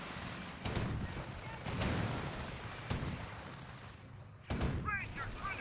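Gunfire and artillery in the Company of Heroes game at Angoville: bursts of loud rumbling fire and impacts start at about 0.7 s and recur several times, with a sharp crack at about 4.5 s, all over a dense battle din.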